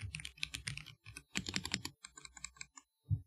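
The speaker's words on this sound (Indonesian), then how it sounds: "keyboard yang kedua itu pakai switch tactile" Bursts of keystrokes on a keyboard with tactile switches, rapid clacking in short runs separated by brief pauses, close and alone, ending with a heavier thump.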